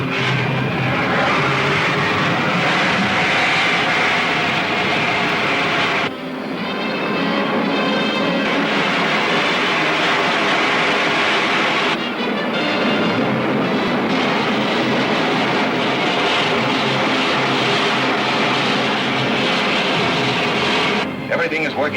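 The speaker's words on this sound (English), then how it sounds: "Firing green jets." Continuous loud roar of spaceship jets firing, an old radio sci-fi sound effect, rumbling steadily with a short dip and restart before surging on.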